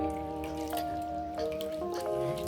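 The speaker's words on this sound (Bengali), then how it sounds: "ভালো করে ঘষে ঘষে ধুয়ে নিতে হবে ডালটাকে" Lentils are rubbed by hand in a pot of water, giving soft close splashes and drips with watery swishing that rise and fall across the short stretch, with no voices.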